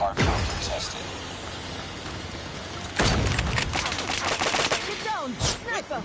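Gunfire in Call of Duty Mobile, with a sniper rifle in the mix on a Hardpoint match. A steady din of game noise is broken by a loud burst of shots near the middle and further sharp cracks near the end.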